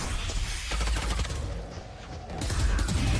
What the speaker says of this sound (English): Now the guns are going to do the rest of the busy work, and it is getting messy.